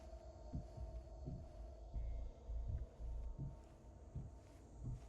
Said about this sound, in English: Heartbeat there.